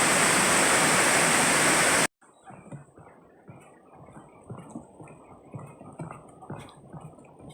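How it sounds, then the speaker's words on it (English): Thundering Falls, a waterfall in Vermont, sends up a loud, steady roar of rushing water for about two seconds, then cuts off abruptly to faint outdoor ambience with soft, scattered low sounds. "this is Thundering Falls"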